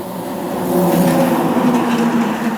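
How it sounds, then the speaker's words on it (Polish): A car passes on a rural road between two villages, a steady close whoosh of tyres and engine that swells and then holds briefly, with no voices. "Ruch na drodze łączącej Trzemeszną z Orechowem bardzo duży, co po chwili jakiś samochód."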